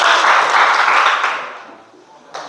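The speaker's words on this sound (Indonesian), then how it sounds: "silakan tepuk tangan dan salaman dengan teman yang lain" A classroom of students clapping their hands together, a loud burst of dense applause close by that fades away within a couple of seconds, followed by a brief sharp sound at the end.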